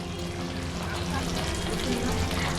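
Raw mango pickle with spices cooking in a pan, a steady close sizzle and bubbling that holds evenly throughout.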